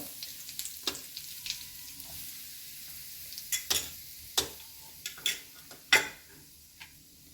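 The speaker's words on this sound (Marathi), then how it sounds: "ते छान तापलं आहे गॅस कडी यामध्ये आपण थोडी हळद घालून घेणार आहोत" Turmeric is stirred into hot oil already holding mustard seeds in a pan while a pumpkin curry is cooked. A faint sizzle runs under sparse, sharp crackles and pops close by, with no talk.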